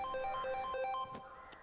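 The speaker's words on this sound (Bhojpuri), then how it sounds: "अरे फोन बजाता देखी ना" A mobile phone ringtone plays a bright, repeating electronic melody indoors, loud and clear for a moment before it cuts off.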